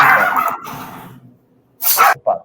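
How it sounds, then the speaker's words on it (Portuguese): A dog gives a few deep, loud barks in quick succession, close by, followed by a short pause and another sharp bark. "Opa, tem um cachorrão aí."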